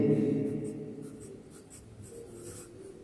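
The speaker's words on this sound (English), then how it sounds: "So you write your mobile number and then email ID." A pen scratches across paper as a mobile number and email address are written on a job application form, short strokes in quick uneven bursts, close and fairly quiet and heard on its own.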